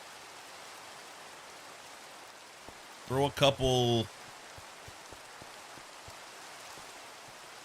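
Rain in the Minecraft video game falls as a soft, steady hiss throughout, with a brief burst of speech partway through.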